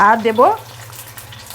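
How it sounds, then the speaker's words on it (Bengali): Bay leaf, dried chillies and five-spice sizzling in a little hot oil, a soft steady fry that starts under a brief spoken line and then continues alone. "আমি এগুলোকে একটু 10 সেকেন্ড মতো ভেজে নেব।"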